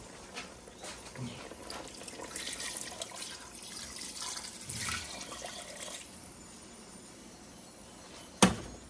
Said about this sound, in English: to the pan, about 2 cups of water, and we're going to stir it